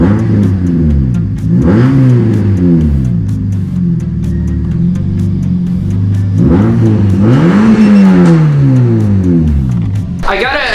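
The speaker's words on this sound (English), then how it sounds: "let's rev our supercharger" A supercharged engine in a mini monster truck revs hard nearby, climbing and falling in pitch over several pulls with a constant loud idle drone between them.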